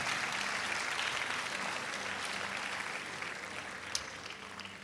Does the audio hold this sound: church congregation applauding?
yes